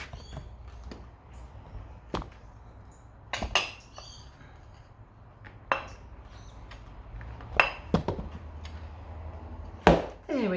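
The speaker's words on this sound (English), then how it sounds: "Use your spoon, scrape it in." A spoon scrapes icing sugar into a mixing bowl, making a handful of sharp clinks and scrapes spaced irregularly over a quiet kitchen background.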